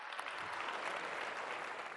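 Dense, steady applause from a crowd fills the whole two seconds at an even level, with no voices standing out above the clapping.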